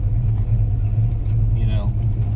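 A 1969 Dodge Coronet 500 cruising at speed in fourth gear, a steady, loud low droning engine and road rumble from inside the car, with a brief voice over it.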